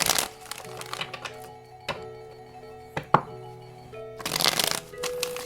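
Tarot cards being shuffled, with repeated riffling and crackling bursts and several sharp snaps, a steady tonal hum underneath, close and fairly quiet, no talking.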